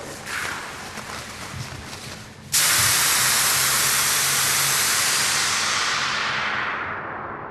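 Steady broadband hiss of an aerosol spray-paint can bursting on abruptly and holding for several seconds, loud and close, after a quieter rumbling background, with no talk.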